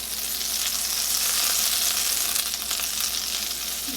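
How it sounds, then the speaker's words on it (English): About half a stick of butter melts in a hot pan for a chicken and wild rice casserole sauce, producing a dense, loud, even sizzle that holds steady for the whole stretch, close and without voices. "Get this in here and get that going and melting"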